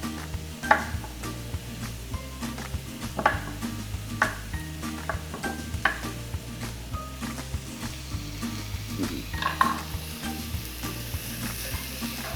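Meat and sliced onion sizzling in a frying pan, a continuous crackling hiss with repeated sharp clinks and scrapes of a utensil against the pan, a low hum beneath and no speech.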